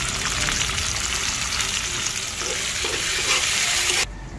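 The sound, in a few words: garlic, onion and tomato sautéing in a pan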